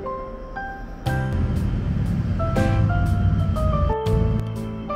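Road traffic from National Route 2, a busy trunk road beside Tatsuno Station across a parking lot, a steady low rumble of passing vehicles with a louder truck-like swell, overlaid by tonal hums and whines, moderately distant.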